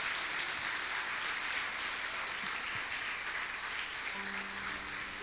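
Church congregation applauding together during a service, a steady sustained wash of clapping heard from some distance, even in level with no talk over it.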